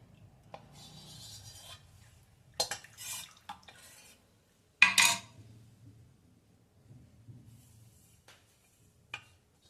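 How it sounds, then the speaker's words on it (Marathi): Wheat starch (chik) being stirred into warm water in a pot, giving soft scraping and clinking strokes of a utensil against the vessel, with a louder burst of stirring midway and a few quieter scrapes around it. "हे व्यवस्थित हलवून घ्यायचं."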